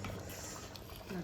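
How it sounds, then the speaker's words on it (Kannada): Malabar spinach (basale) and prawn curry, Mangalore style, bubbling steadily in a pot as it boils, a continuous close simmering gurgle. "ನೋಡಿ ಗುಜು ಗುಜು ಕುದೀತಾ ಉಂಟು, ಚೆನ್ನಾಗಿ ಬೆಂದಿದೆ ಪದಾರ್ಥ."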